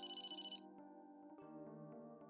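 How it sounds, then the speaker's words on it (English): A cheerful electronic phone ringtone in the video game Emio: The Smiling Man plays close and clear, a bright high melodic trill over a sustained tonal chime that carries on steadily as background music. "Oh, the phone's ringing."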